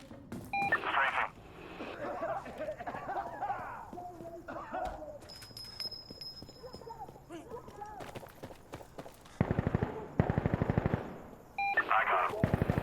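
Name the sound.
air support strafing gun run in video game Insurgency Sandstorm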